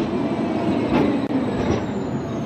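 A tram rolling past at a street crossing, a steady rumbling roll of wheels on rails with a faint squeal, close and loud without talk.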